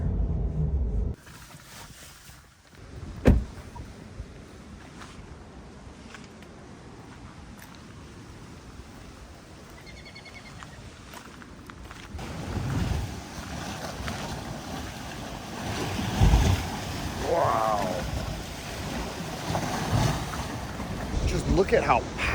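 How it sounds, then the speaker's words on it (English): Powerful Lake Michigan storm waves smash into a shoreline wall, heard as rolling, crashing surges under heavy wind buffeting on the microphone, with bursts of louder impact and some talk. "look at how powerful those waves are. Just smashing into that wall."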